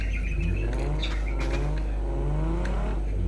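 A car engine in the PUBG video game revs steadily as the throttle is pressed, a loud continuous drone with rising and falling tones and a rattling exhaust, alone with no talk.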